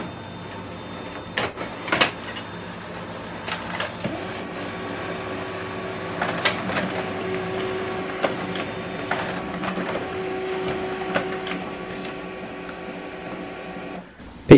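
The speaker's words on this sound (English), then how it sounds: "Page 1 and page 3 is copied." An HP LaserJet printer hums steadily while copying, with sharp clicks and mechanical clunks at irregular intervals as pages feed through, close by and without talk.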